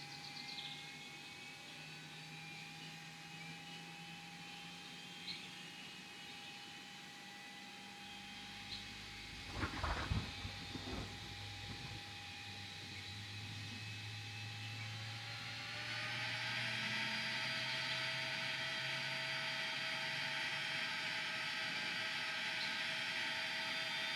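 Exterior engine sound of an Airbus A330 in the X-Plane 11 flight simulator, a low steady turbine whine and hum, with a brief burst of noise midway before the engine tone rises and settles at a higher pitch.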